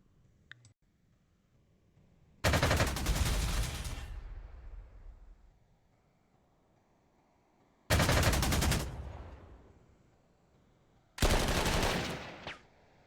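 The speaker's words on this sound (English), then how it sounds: "Man, that artillery is brutal." Artillery fire in the Panzer Corps 2 strategy game: three separate loud, booming blasts, each followed by a long fading rumble, with near silence between them.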